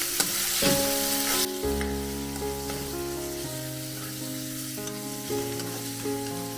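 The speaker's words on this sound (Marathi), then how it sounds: "आता कांदा आपल्याला मऊसूर होईपर्यंत फ्राय करायचा आहे" Finely chopped onions, two large ones, fry in a pan until soft. A bright hiss opens the clip, then a lower sizzle continues beneath prominent melodic background music.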